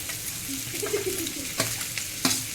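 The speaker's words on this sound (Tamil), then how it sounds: "ஏன் சோம்பு பொரியுது?" Fennel seeds fry in a hot pan, giving a soft sizzle broken by sharp crackles and pops, close by and fairly quiet.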